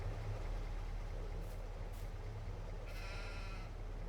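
A sheep at a farm gives a single short bleat near the end, fairly distant, over a constant low rumble of background noise.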